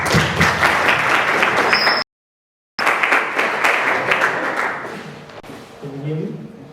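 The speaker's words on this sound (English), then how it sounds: "A round of applause for Paul." An audience at an iOS development bootcamp in Barcelona applauds a speaker named Paul, with dense broadband clapping that cuts out briefly, resumes and fades as a voice begins speaking.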